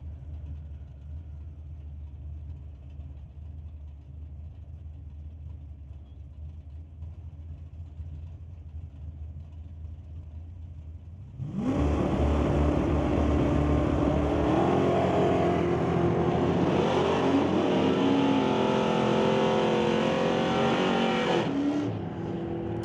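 A 1991 Ford Mustang Fox body and a second car launch in a bracket drag race, a sudden loud roar of revving engines cutting in midway and holding at full volume after a stretch of quieter low rumble.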